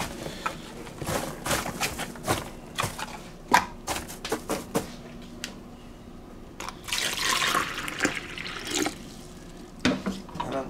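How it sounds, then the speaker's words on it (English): Water is poured out of a ball python's water bowl, giving a scatter of splashes and drips with a brief fuller pour partway through, close and fairly quiet. "And then dump the water, of course."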